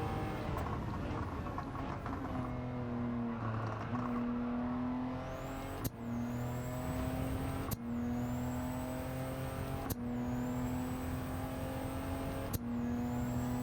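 A Honda S660 races at Autopolis in Gran Turismo 7 with a constant engine drone. At each gear change, about four in total, a sharp click is followed by a high whistling blow-off valve hiss that falls in pitch.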